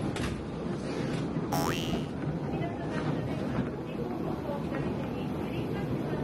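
Inside the Ibusuki no Tamatebako sightseeing train, a continuous rumble and rattle of the shaking carriage fills the cabin, with a brief sharp metallic squeal partway through.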